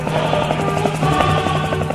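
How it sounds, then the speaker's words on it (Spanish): Helicopter climbing away during a flight toward Cartagena, a steady throbbing rotor and engine drone with a rhythmic beat, loud and close throughout without speech. "Ahí está el helicóptero. Subiendo."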